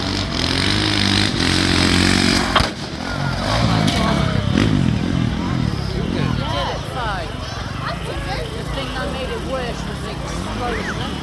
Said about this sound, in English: that is my final bike jump of the evening